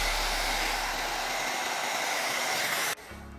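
A heat gun runs on its high heat setting, blowing steadily loud and close with a constant broadband rush, then cuts off abruptly near the end, leaving a low hum.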